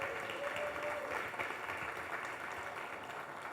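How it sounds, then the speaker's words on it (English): A conference panel audience claps in a sustained, dense round of applause that stays fairly even throughout, with a faint voice briefly audible underneath. "let's give a giant round of applause and make some noise for all the people that support this thing"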